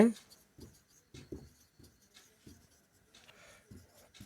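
Math is written on a board for a seventh-grade lesson, and the chalk or marker strokes come as short, regular scratches. A teacher talks quietly in the background.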